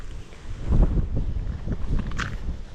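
Strong wind on an island buffeting the microphone in low rumbling gusts, with faint crunching or thumping underneath and no speech.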